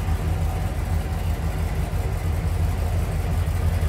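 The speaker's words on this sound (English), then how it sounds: "Nice little rumble coming out of that Hemi." A 1967 Dodge Coronet R/T with a 426 Hemi V8 idling close by, a steady deep low rumble with a slightly lumpy pulse, loud and unbroken with no talking.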